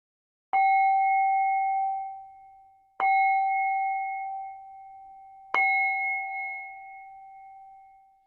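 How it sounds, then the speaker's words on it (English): A meditation bell rings three times at even intervals, each clear tone struck sharply then sustaining and fading slowly, with silence otherwise. "I'll start and end with the sound of the bell."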